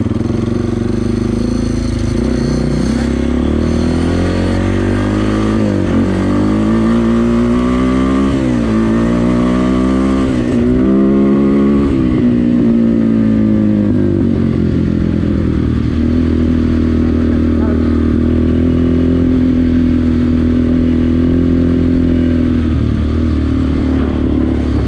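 Yamaha Warrior 350 and Yamaha Banshee 350 ATV engines on a trail, droning loud and close with repeated revs and shifting pitch, plus occasional clatter and scraping, running continuously with no talking.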